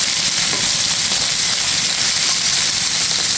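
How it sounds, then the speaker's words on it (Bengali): Tengra fish frying in hot oil, a continuous loud sizzle and crackle with a bright steady hiss, close up and unbroken throughout. "কিছুটা ভেজে নেব, যাতে একবারে কড়া করে ভাজলে এই মাছটা কিন্তু খেতে ভালো লাগে।"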